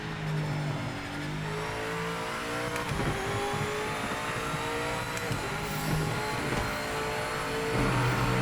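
A BMW GTE race car in the Project Motor Racing game at Spa-Francorchamps roars loudly and continuously, its engine note dropping and rising with downshifts and engine braking, with faint tire noise and no talk.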